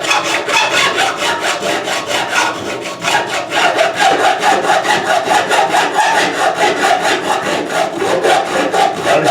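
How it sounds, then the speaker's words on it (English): Metal frets on a biscuit box guitar being filed, a loud, steady, rhythmic rasp of quick back-and-forth strokes close up, with no voices. "So you just keep filing a little bit"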